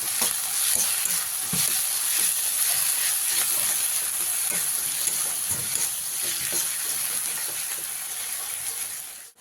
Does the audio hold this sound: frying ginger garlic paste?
yes